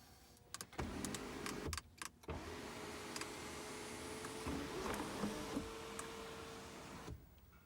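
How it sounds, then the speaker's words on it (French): Porsche 911 Carrera 4 GTS power window and sunroof opening, a steady electric motor whine running for several seconds, preceded by a few sharp clicks and mechanical knocks, heard close inside the car. "On va ouvrir la fenêtre, un peu le toit ouvrant également."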